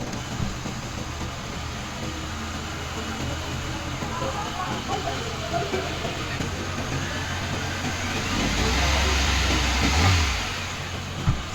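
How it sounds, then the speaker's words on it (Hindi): A car engine runs with a steady, fairly quiet mechanical hum during a battery check, swelling louder for a moment near the end. "गाड़ी को स्टार्ट करेंगे।"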